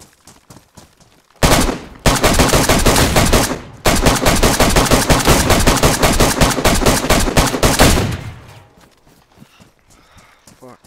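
Loud automatic gunfire in the video game DayZ, rapid close bursts running for several seconds with a brief gap, then fading into quieter game ambience.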